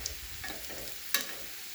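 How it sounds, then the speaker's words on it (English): Chicken pieces frying in oil in a seasoned wok: a soft, continuous crackling sizzle with a sharper pop near the end, brief and close, with no talking. "Let's get some ASMR action so you can actually hear what the frying sounds like."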